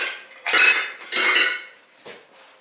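Metal utensils clatter and clink as a metal quarter-cup measure is picked up from among them in a kitchen, two loud jangling bursts close together, then a softer clink.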